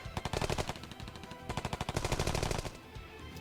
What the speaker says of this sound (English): Bullets were fired.